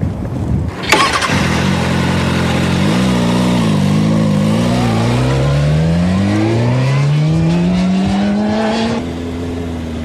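A motorcycle being ridden to demonstrate countersteering, its engine note rising steadily and revving loud and close throughout, with no talking.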